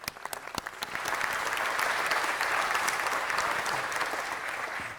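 A city council meeting audience claps for a voter registration group: a few scattered claps swell within a second into sustained, even applause from a roomful of people that holds steady to the end.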